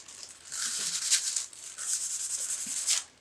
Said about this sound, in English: It's just like a piece of kitchen parchment paper. Okay. To help kind of burnish it into that glue.